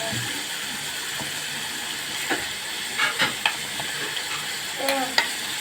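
Liver with peppers sautéing in a hot pan gives a steady low sizzle with a few louder stirring scrapes and clinks near the end, close by, and no one speaking.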